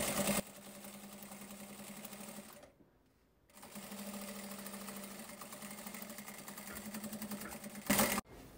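A sewing machine runs steadily, stitching fabric close to the zipper teeth of an apple-shaped coin purse. The fast, even mechanical hum stops briefly partway through, then resumes and ends with a short louder clatter.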